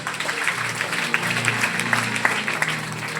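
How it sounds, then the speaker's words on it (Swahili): A church congregation at a Sunday service claps together, a busy continuous patter mixed with a low hum and faint voices in the background. "Simtafike Yesu makofi"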